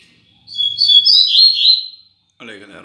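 Double-collared seedeater (coleiro) kept in a cage near a female, giving a loud, close run of high chirps and trills lasting over a second, followed by someone speaking.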